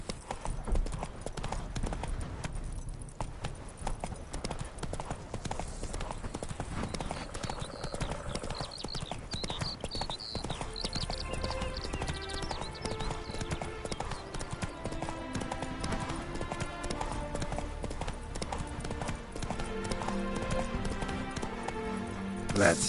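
Horse Roach galloping in The Witcher 3, a steady rapid clip-clop of hooves that runs throughout, mixed under game music and ambience.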